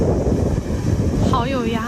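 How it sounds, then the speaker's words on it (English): Strong typhoon wind roars and buffets the microphone in a steady, loud rush, with a voice talking briefly over it near the end. "did you see how strong the wind was?"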